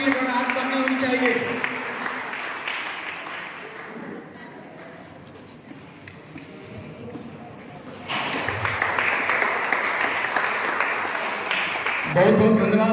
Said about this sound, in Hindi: तालियों की गड़गड़ाहट करनी होनी चाहिए।